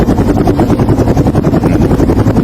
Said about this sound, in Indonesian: Berangkatlah Gabriel sama supirnya ke bumi, helikopter